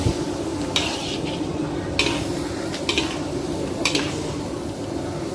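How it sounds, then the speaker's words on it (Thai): Onion and red chili stir-fry in a pan for Thai curry-powder squid, with a continuous close sizzle and repeated scrapes and clinks of a utensil against the pan every second or so. "หอมใหญ่กับชีฟ้าแดงลงไปก่อนเลยครับ"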